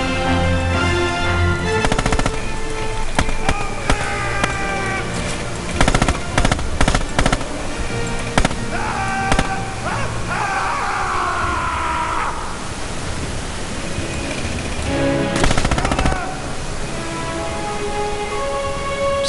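Machine gun fire in the World War II shooter Red Orchestra 2 at Stalingrad, loud sharp bursts of shots early on and again near the end, set against a dense battlefield noise bed and scattered distant gunfire.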